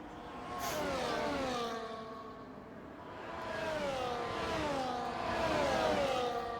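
Formula 1 car engine in the game F1 24 during a race at Imola, a steady high whine rising and falling through gear changes and throttle swells, fairly loud and with no voices.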